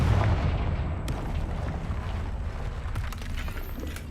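A Confringo blasting spell goes off in Hogwarts Legacy, a loud low boom at the start that rolls into a sustained rumbling blast with crackling bursts, alone with no talk.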